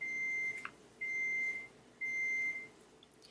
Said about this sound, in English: for the beeping because I had to put the pork chops on defrost again